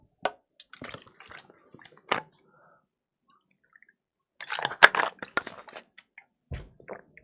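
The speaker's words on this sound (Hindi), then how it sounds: "पानी पिएंगे थोड़ा सा" Someone pauses during a chemistry lesson to drink a little water, making a few soft clicks and handling noises, a quiet gap, then a cluster of close sips and gulps with small clicks afterward. Nobody speaks.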